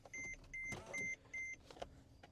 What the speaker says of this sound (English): It's gonna beep for a second before I put the key in.